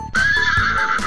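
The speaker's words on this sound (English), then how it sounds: "even Woody's horse Bullseye is here." A toy horse of Bullseye from Toy Story gives a short, bright whinny, loud and close, lasting about a second.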